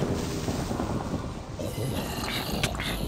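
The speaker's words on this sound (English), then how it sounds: "Man, that thunder's loud." Thunder rumbles in a blocky survival video game, a loud, low, sustained roll that fills the whole clip, with faint higher crackles near the end and no voices.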